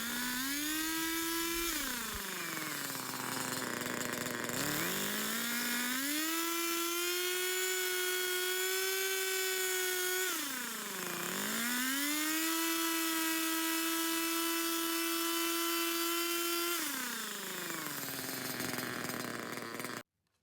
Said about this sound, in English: I'm going to take this chain and just run it along that edge there and see if I can just flatten out a little bit more